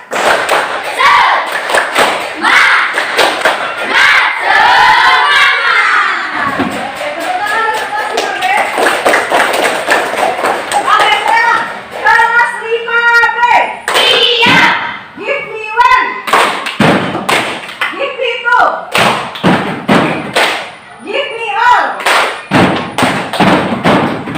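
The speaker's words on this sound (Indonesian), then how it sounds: "mari kita tepuk semangat dulu" A primary school class performs tepuk semangat, a rhythmic spirit clap, with sharp patterned claps and table thumps alternating with children and a teacher chanting along, loud and close throughout.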